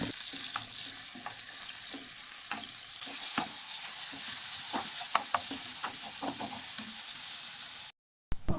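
Onion fries quickly in a hot pan with a steady bright sizzle, broken by scraping stirring clicks, then ends in sudden silence.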